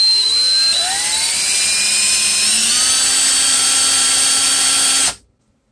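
Power drill boring holes into a Doctor Octopus tentacle prop, a loud close whine that rises in pitch as the motor spins up, holds steady for several seconds, then cuts off abruptly into silence.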